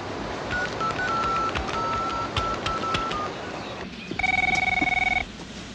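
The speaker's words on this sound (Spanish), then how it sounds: "Pásame el teléfono. ¿Cuál teléfono? ¡Pues el que está sonando, señor!" A telephone rings in short repeated electronic bursts, then a louder, steadier two-tone ring toward the end, fairly close in an indoor comedy scene.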